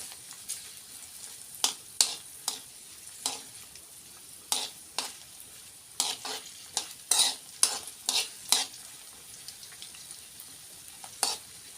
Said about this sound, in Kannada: ಈ ಡ್ರೈ ಫ್ರೂಟ್ಸ್ ಚೆಂದಾಗಿ ತುಪ್ಪದೊಳಗೆ ಹುರಿಬೇಕು ರೀ ಫ್ರೆಂಡ್ಸ್